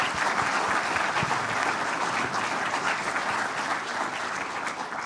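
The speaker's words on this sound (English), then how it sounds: "Another big round of applause for them." A large ceremony audience applauds the local hero nominees at the 2022 Queensland Australian of the Year Awards, a dense, steady wash of clapping that holds at an even level for the whole stretch.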